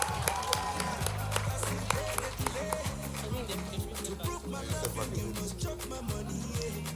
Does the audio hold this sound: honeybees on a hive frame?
no